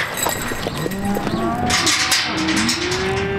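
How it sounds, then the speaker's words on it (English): Cattle moo repeatedly as they are moved out of a sale yard into owners' pens, several drawn-out calls overlapping over steady background noise and movement. "Now sold, the cattle are ushered out to the pens of each respective owner."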